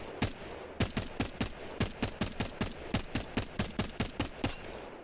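Heavy-ammo gun in Apex Legends firing in single-fire mode: about seventeen sharp, loud shots in a steady, quick rhythm, each a crisp crack with a short tail, and no talk.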